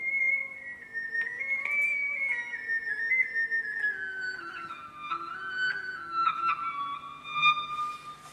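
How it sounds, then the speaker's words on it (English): A high, pure whistle-like tone from a guitar pitched up to sound like a penny whistle plays a wandering melody, sliding and stepping between notes with a faint lower harmony and steady background hum. "then you can have a kind of a penny whistle sound."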